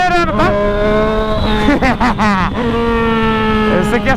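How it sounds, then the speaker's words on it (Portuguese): A Yamaha MT-09 motorcycle with an aftermarket exhaust revs hard and steadily, engine pitch rising and falling with crackling pops from the pipe, loud and close throughout. "olha os estouros do escape"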